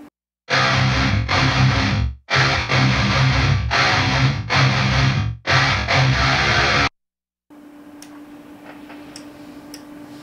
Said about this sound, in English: So it's basically kind of like a digital reverb in a sense.